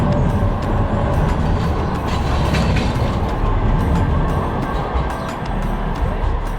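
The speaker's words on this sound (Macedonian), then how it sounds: "Сега одиме да земеме трамвај." A tram rolls through Istanbul with a loud, continuous rumble and rattle, rhythmic rail clicks and metallic squeals running throughout, heard from close by with no talking.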